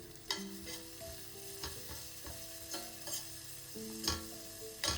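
Ginger garlic paste and turmeric sizzle in hot oil in a pan as they are stirred, with a spoon scraping and tapping in an irregular rhythm over steady frying hiss, close and moderately loud with no talking.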